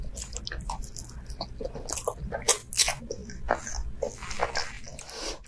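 Someone eats rainbow cake close to the microphone, with repeated wet bites, soft squishy chewing and light crunches in an uneven rhythm, loud and intimate, with no talking.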